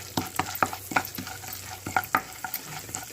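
Cumin seeds sizzle and crackle in hot oil in a pan while a spoon stirs them. Close, sharp scraping strokes come in an irregular rhythm over a faint frying hiss, and nobody speaks.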